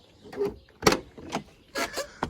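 Car door of a Doğan SLX being opened: a few separate mechanical clunks and latch clicks, one sharper central thump, close by and without speech.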